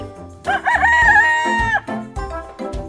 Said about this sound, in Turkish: Horoz sabahları insanları ü ü ü diye ses çıkararak uyandırır.